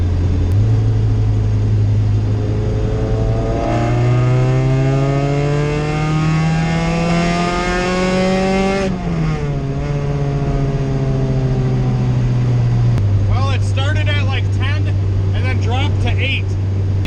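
Car fitted with a Jackson Racing supercharger accelerating under boost in fourth gear, engine drone climbing steadily in pitch before a shift-like dip, loud and continuous, with a voice talking over the end.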